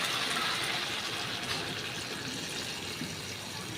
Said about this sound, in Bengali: আমি একটু জল দিয়ে দিলাম।